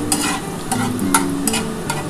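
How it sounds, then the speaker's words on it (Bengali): Chopped onion sizzling in a pan of oil with garlic, a close, busy fry broken by a few sharp bursts of crackle as the pieces are stirred, with no voices. "এবার আমি পেঁয়াজটা দিয়ে দিচ্ছি"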